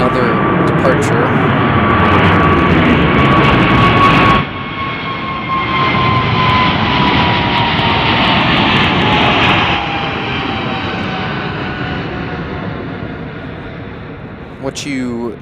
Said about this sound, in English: What you just heard was Air China Cargo 1056 off to Shanghai.